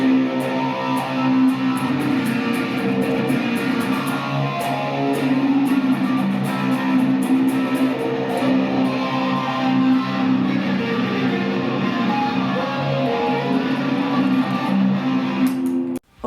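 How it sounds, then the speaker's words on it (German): An electric guitar runs through an Electro-Harmonix Memory Man delay pedal used as a looper, producing layered, sustained tones with repeating echoes and distorted texture that play continuously before cutting off abruptly. "nochmal ein Delay-Pedal, weil man nie genug Delay-Pedals haben. Den Memory Man. Und den benutze ich manchmal als Looper"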